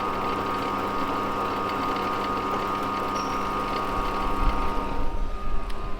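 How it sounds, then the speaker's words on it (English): A drill bores holes in the metal frame of a former army truck being converted into a fire truck, giving a steady whirring motor drone with a rougher, grinding load toward the end. "So at the moment we're just drilling some holes for our engine blocks"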